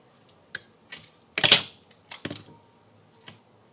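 Adhesive tape is pulled and pressed onto a package, giving a series of sharp crackling rips and taps at irregular intervals in a quiet room, with one longer, louder tearing burst in the middle.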